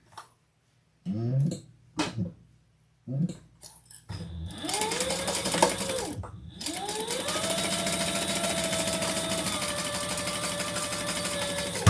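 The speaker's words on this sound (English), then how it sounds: "let's sew these together" A sewing machine runs steadily for several seconds, stitching leather tote bag pieces together after a few short starts and handling noises.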